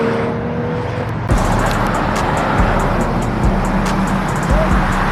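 A Porsche GT3 RS drives past on a busy street full of supercars, a loud broadband road rush rising abruptly and sustained close by, with other traffic noise around it.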